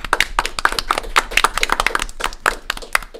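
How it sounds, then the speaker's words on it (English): A burst of enthusiastic clapping from a small group, brisk and close, with dense overlapping hand claps throughout. "I think a round of applause for my wonderful players, Samaya."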